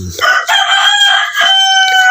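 A loud, close gamecock crow stretching across the clip, with a second rooster's crow overlapping near the end.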